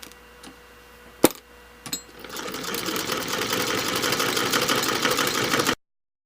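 A sewing machine pieces quilt fabric for a Prickly Pear quilt, starting after a few sharp clicks and then running in a steady, close, continuous whir for about three seconds before stopping abruptly.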